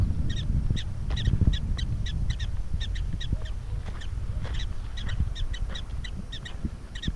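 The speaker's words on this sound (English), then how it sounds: "They're all chirping at us" Prairie dogs at a national monument in the Nebraska grasslands give repeated short, high chirps in quick bursts across the whole stretch, moderately near, over steady low wind rumble.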